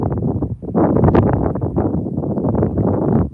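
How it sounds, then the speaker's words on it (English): Wind buffets the microphone in loud, gusty rumbles that rise and fall continuously throughout. "It's windy today."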